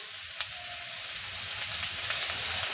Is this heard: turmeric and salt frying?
yes